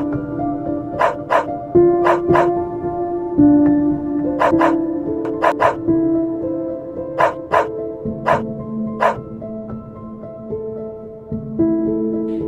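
A dog barks repeatedly in quick pairs and single yaps, sharp and close, over a soft sustained musical backing.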